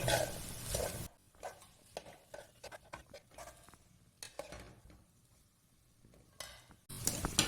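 Chopped tomato being stirred into a green peas egg masala in a pan, Kozhikode beach-stall style, with scattered soft scraping and clinks of a spoon against the pan, quiet and close, between louder bursts at the start and end.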